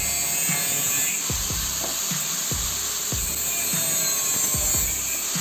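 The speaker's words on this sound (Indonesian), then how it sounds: "supaya rekan-rekan bisa melihat aktualnya saat digunakan untuk memotong besi hulu 2 mm" A DCA ASM15-100B angle grinder cuts 2 mm hollow iron with a steady high-pitched whine and harsh grinding, broken by repeated rhythmic scraping strokes, loud and close.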